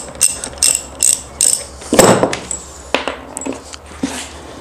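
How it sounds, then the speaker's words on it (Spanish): Ratchet wrench loosening the upper steering nut on a Vespa P200 E scooter: a series of quick, close clicking bursts in a steady rhythm, with a heavier clunk near the middle and a few softer clicks after. "Aflojamos la tuerca que va por la parte de arriba."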